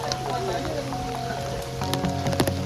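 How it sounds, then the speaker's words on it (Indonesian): Rain falls steadily on a misty forest hiking trail at Bukit Daolong in Sentul, Bogor, a soft, even patter with scattered nearby drips and splashes that thicken toward the end. "Rintik hujan perlahan berubah menjadi deras, membuat jalur pendakian semakin licin dan berbahaya."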